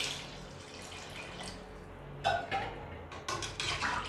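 Water is poured into a cooking pot while making chicken and broken-wheat (daliya) biryani: a splashing, trickling pour that starts about halfway through and continues in bursts, close and fairly loud, with no talking.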